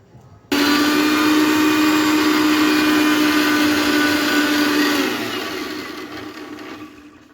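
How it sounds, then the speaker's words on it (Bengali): A kitchen blender whirs loudly and steadily, blending grated coconut with water and a green chili, starting abruptly after a moment of quiet and easing down toward the end with no talk. "এবার ব্লেন্ড করে নেওয়া হবে"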